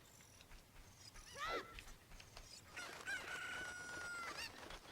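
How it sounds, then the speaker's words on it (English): A chicken crows in the video game The Legend of Zelda: Ocarina of Time, with a short squawk followed by a longer, strained cock-a-doodle-doo call, heard clearly over soft ambient game noise. "Hey, I got a chicken."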